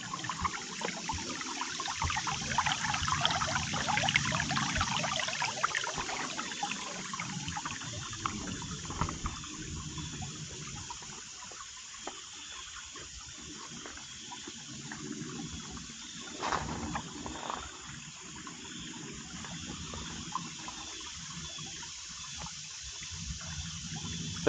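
Harnish Run, a creek in Texter Mountain Preserve during a dry summer, flowing with a steady close rushing and trickling wash of water that continues unbroken throughout.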